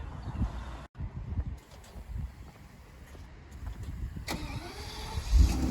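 A Mercedes S600 SEL V12 with the M120 engine starts up: a short cranking burst, then a low idle rumble, heard from close by.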